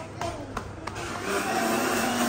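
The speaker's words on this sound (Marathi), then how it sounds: "आता इथं मिक्सर चालू आहे" A kitchen mixer grinder whirs during festive home cooking, its motor noise building after a few light knocks and then holding as a steady, fairly close hum.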